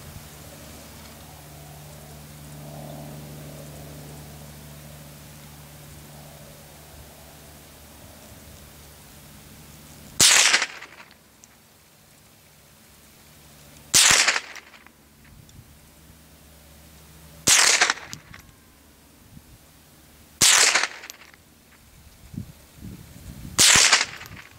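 A Ruger 10/22 rifle fires at targets in the desert: five sharp, loud single shots spaced a few seconds apart, with a quiet outdoor hush and light wind noise between them.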